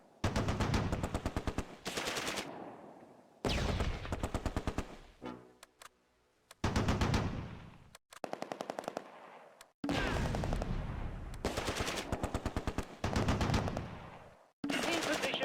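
Gunfire from a Panzer tank and infantry in the Close Combat war game, set in the tulip fields on the island during Operation Market Garden: loud, close bursts of rapid automatic fire separated by short silences, with scattered single shots and clicks between volleys.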